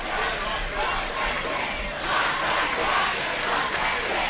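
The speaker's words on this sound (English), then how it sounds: "Now the Snyder crowd below us trying to urge on a block kick." A high school football crowd roars and chants in a dense, sustained wash, urging on a field goal block attempt, with rhythmic shouts rising and falling beneath the noise.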